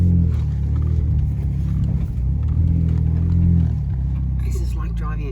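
A Ford Raptor pushes through deep sand on a border bush track, its engine a loud, steady low rumble with cabin vibration while people talk over it throughout.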